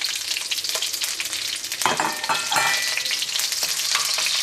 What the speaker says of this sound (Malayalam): ഈ ചുവന്നുള്ളി നമുക്ക് എണ്ണയിലിട്ടിട്ട് നന്നായിട്ടൊന്ന് മൊരിയിക്കാം.